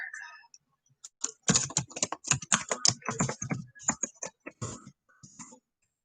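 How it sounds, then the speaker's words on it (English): Quick bursts of typing on a computer keyboard as a name is entered, close crisp clicks in uneven runs with brief pauses between words. "I'm going to type her name."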